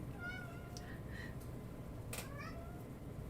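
A cat meows several times indoors, faint and somewhat distant, over a steady background hiss with little else present.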